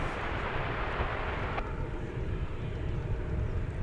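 A Delta Airbus A220 airliner from Salt Lake City passes at Dallas Fort Worth airport, its broad, continuous jet roar steady and fairly loud throughout, with no voices.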